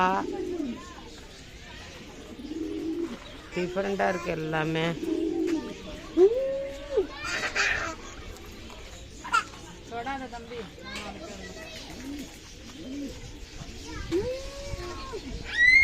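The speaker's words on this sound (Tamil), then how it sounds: "பரம்பரை புறாக்கள்" Pigeons coo at a bird park, a series of low, rounded calls repeating through the clip amid other bird calls and children playing, with people talking nearby.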